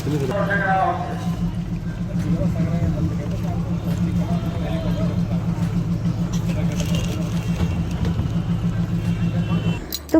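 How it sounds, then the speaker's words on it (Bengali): Bus engine running steadily as it pulls away on a Darjeeling trip, a low continuous drone with a faint rhythmic pulse throughout, beneath people talking. "ফাইনালি আমাদের বাস ছেড়ে দিল"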